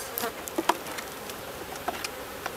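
Honey bees buzz close by while two hives are combined using the newspaper method, with a steady hum and occasional louder passes as individual bees fly near.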